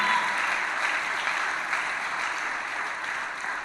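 A church congregation claps and applauds together in praise during a service, a dense, steady burst of hand claps from many people that fades slightly toward the end.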